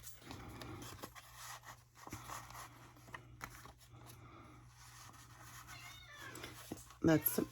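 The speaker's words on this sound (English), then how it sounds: "That's my cat talking." A cat meows softly a few times nearby amid quiet rustling, with a brief sharp noise near the end.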